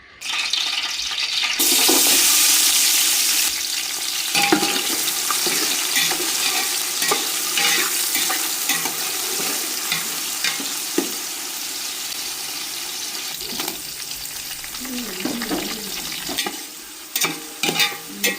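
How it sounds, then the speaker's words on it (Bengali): Onion, green chili, tomato and garam masala fry in hot oil with a loud, continuous close-up sizzle, broken by scraping stirs and a few clinks near the end. "তেলের মধ্যে পেঁয়াজ কাঁচামরিচ টমেটো এবং গরম মশলা দিয়েছি এখন একটু ভেজে নিব"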